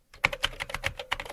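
Rapid, close keystrokes on a computer keyboard tap out a command line in a steady uneven patter for over a second, entered on Windows 11 while setting up Microsoft Office 2024.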